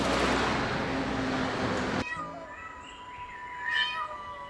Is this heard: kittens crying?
yes